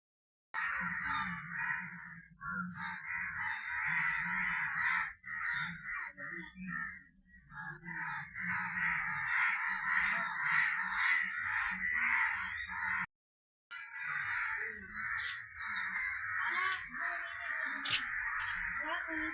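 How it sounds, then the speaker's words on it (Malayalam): Crows cawing loudly and repeatedly at close range during a Thiruvonam day at home, harsh calls overlapping almost continuously, with a person talking underneath. "ഭയങ്കര കാക്കയുടെ ശല്യം"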